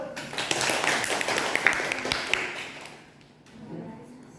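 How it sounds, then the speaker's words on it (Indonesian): A room of new students at a morning leadership training session claps hands together, a dense, steady patter of many hands that fades out toward the end, with some talk mixed in. "Tepuk tangan dulu."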